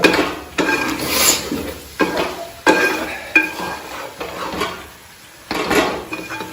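A chili leaf mixture of tender shoots and small leaves is stirred by hand in a pot, with repeated scraping and clattering strokes at an irregular rhythm, close and fairly loud, no voices.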